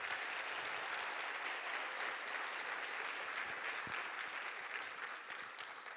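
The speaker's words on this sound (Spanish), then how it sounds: "por eso también un gran aplauso para nuestros profesores" Sustained applause from an audience at a German school's cultural night in Cuenca fills the room with a soft, even patter that fades slightly toward the end.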